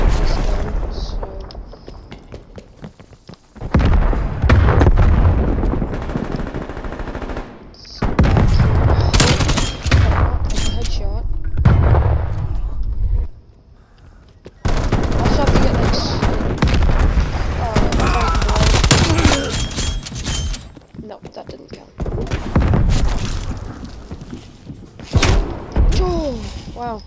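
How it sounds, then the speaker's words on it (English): Gunfire in the video game Call of Duty Cold War: loud bursts of rapid shots and booms in several long stretches, separated by brief quieter gaps, with a voice talking at times. "Also gotta get long shots with this gun"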